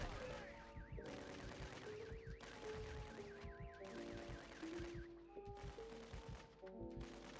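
Rapid gunfire in a Minecraft video game, bursts of quick shots in uneven rhythm over a tonal, musical background, with players talking over it.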